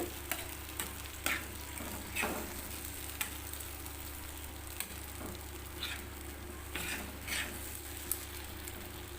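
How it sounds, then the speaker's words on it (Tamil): Wheat flour is stirred into a tomato dosa batter in a bowl, giving quiet wet scraping with light, irregular spoon taps close by and no voices. "இப்போ இந்த கோதுமை மாவை இதில் ஊற்றிக்கலாம் ஊற்றிட்டு நல்லா கலக்கிக்குங்க"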